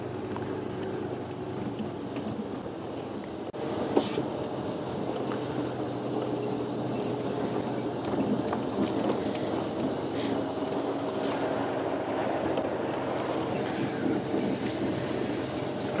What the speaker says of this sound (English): It was quite difficult to hear over the engine.